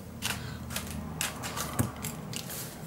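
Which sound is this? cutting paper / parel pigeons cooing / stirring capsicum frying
cutting paper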